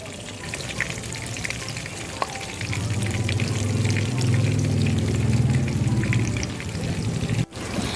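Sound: shrimp donuts frying in oil

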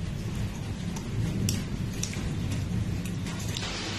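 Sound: heavy rainstorm

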